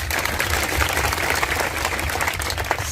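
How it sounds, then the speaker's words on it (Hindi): Loud, sustained applause from a large crowd at a political rally, dense continuous clapping with no pauses throughout. "सबके लिए भी जोरदार तालियां।"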